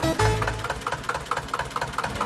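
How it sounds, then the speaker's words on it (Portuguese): Old two-cylinder inline diesel tractor from the late 1940s runs steadily nearby, its engine giving an even, chugging pulse. "Motor movido a diesel, com apenas 2 cilindros em linha"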